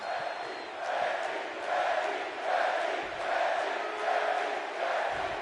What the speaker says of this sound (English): Crowd chanting Becky right now.